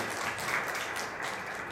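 Audience at an award ceremony applauds with steady, fairly soft clapping that holds evenly without pause.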